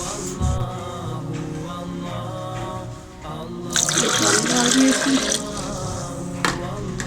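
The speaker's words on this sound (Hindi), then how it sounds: "इसमें डालती हूँ पानी, थोड़ा सा इसमें पानी जाएगा" Water splashes and trickles into a container for a few seconds while making a mint lemonade, with kitchen clatter and a voice speaking around it.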